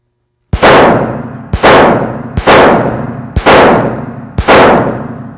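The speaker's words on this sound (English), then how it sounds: "I want you to engage the target with 5 rounds from the chest all the way up into the head" Five sharp gunshots fired at a target, spaced about one second apart, each loud and close with a quick crack and short ringing decay.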